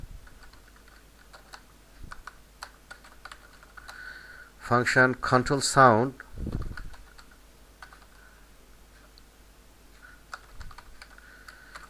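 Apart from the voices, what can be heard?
typing on a computer keyboard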